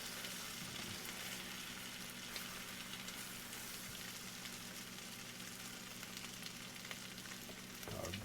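French toast made with duck eggs and rye whiskey fries in browning butter, giving a steady, even sizzle and crackle that holds throughout with no talking.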